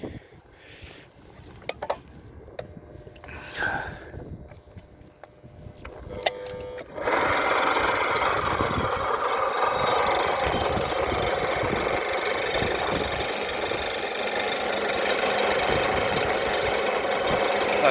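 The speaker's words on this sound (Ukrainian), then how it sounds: "Зараз запускаю два оці моторредуктори." Two gear motors start up after a few quiet seconds of scattered clicks and knocks, then run on in a steady, loud mechanical whir and rattle that lasts to the end.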